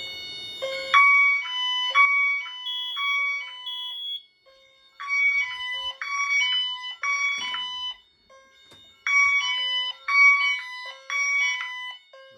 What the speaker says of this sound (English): And trip the smoke detector.